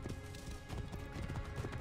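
A horse gallops in Assassin's Creed Origins, its rapid, rhythmic hoofbeats thudding continuously at low volume with no talk over them.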